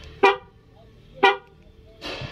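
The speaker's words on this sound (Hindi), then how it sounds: "तो ये हॉर्न मारने लगती है।" Horn of a 2022 Mahindra Scorpio Classic S11 top-model SUV sounding three times: two short, loud, evenly spaced honks a second apart, then a third blast that is rougher and slightly longer, heard close with no talking.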